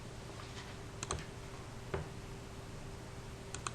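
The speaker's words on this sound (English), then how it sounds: "Now I can start off an equation just by typing equals." Sparse keystrokes on a computer keyboard while entering an equation in SolidWorks 2013 software: a few faint, isolated clicks spaced irregularly over a steady low hum of room noise.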